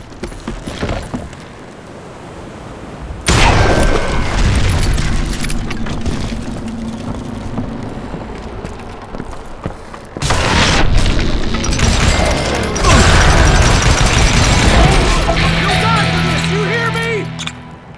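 Dynamite explosions in the video game Call of Juarez Gunslinger, heavy booming blasts with long rumbling crash tails, loud and close, mixed with game music and effects.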